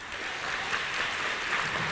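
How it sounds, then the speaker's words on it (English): Steady applause from an audience at a town meeting, a dense continuous wash of clapping held at an even level throughout. "I ask that you please respect my wishes and hold your applause."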